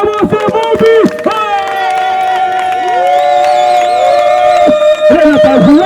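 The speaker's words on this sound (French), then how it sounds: "Acclamons ce bon but." A crowd cheers loudly at a civil wedding celebration, with sustained, wavering high voices ringing over a dense, continuous roar that holds steady throughout.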